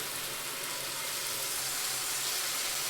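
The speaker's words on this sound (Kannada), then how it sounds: "ಇವಾಗ ಇದನ್ನ 1 ಮಿನಿಟ್ ಫ್ರೈ ಮಾಡಿ." Ground masala paste frying with softened tomato for egg biryani gives a steady, close, bright sizzle that holds evenly throughout with no talking.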